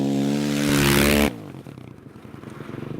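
A dirt bike on studded ice tires on a frozen lake roars loudly up close with a droning engine, then abruptly drops to a rattling, scraping chatter of studs on ice.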